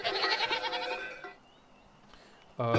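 Goats bleat in a video game in short, nasal calls, a quick burst of bleats followed by a pause and another bleat at the end.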